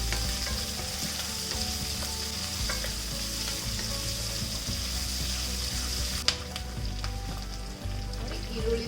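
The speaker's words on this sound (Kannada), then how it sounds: "ಈರುಳ್ಳಿ ಸ್ವಲ್ಪ ಸಾಫ್ಟ್ ಆಗಿ ಕಲರ್ ಚೇಂಜ್ ಆಗೋವರೆಗೂ ಫ್ರೈ ಮಾಡ್ಕೊಳ್ಳೋಣ." Onion fries in a pan for a masala dish, giving a continuous close sizzle with occasional stirring scrapes and one sharp clink, and no voice over it.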